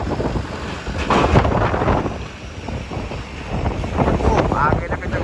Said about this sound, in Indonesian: Anginnya kenceng banget guys.